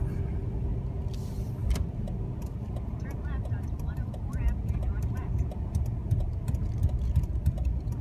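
Car driving through city streets around Edmonton's Rogers Place arena, a steady low engine and road rumble heard from inside the cabin, with faint clicks and light sounds over the continuous drone.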